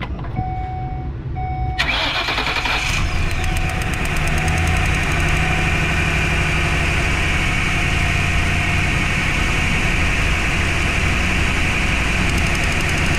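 Ford E150 van engine cranking and catching after injector cleaning, then settling into a steady, loud, rough idle close by, with a faint tone before the start.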